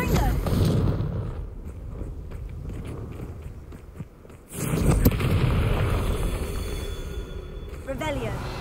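A deep booming blast from the Confringo fire spell bursts out midway through a Hogwarts Legacy fight, followed by rumbling debris under a continuous loud wash of game noise, while someone shouts spell names throughout.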